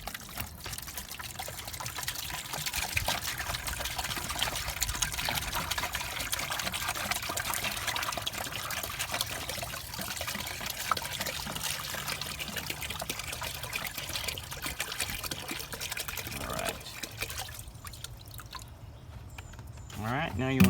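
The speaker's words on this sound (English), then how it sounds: "I'm going to fill it with a fresh bottle of white distilled vinegar." White distilled vinegar poured from a fresh bottle into a clean bucket makes a continuous liquid trickle and splash, steady for most of the pour before tapering off near the end.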